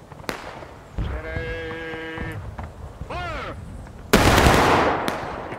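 A musket volley fired on command in a Pickett's Charge battle game: a sharp, loud burst of massed shots near the end, preceded by scattered bleat-like calls and a single crack.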